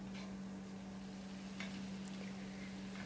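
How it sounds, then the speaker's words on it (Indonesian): Papaya leaf pieces go into fragrant spices frying in a pan, giving a steady low sizzle with light stirring scrapes throughout, no talking. "Setelah bumbunya harum, sekarang kita masukkan potongan dari daun pepayanya."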